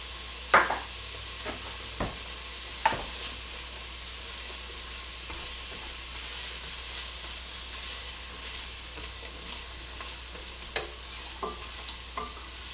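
Parsley and thyme sautéing in a pot for chicken rice soup give a soft, steady sizzle with a few sharp clicks of stirring scattered through, quiet and close.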